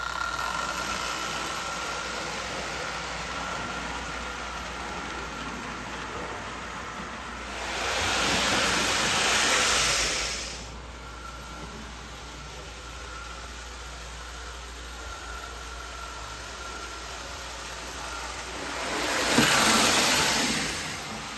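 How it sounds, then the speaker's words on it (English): A Marx 3/16-inch scale toy steam locomotive with tender, boxcar, tank car and caboose runs around its track with a steady whirring rumble that swells louder twice as the train passes close by. "So let's put this set on the track and see how well it runs."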